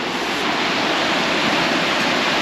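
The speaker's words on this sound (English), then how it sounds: "what you've got is you've got a top layer of water rushing down, but then it hits that bit, hits the bottom of it and swirls round" River water rushes steadily over a weir and swirls below it in Kettering, a loud, dense, unbroken roar heard close up with no voices.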